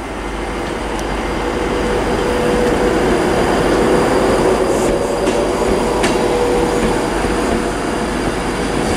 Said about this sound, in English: Departing now is the 1435, ignore me, Virgin Train service to London Euston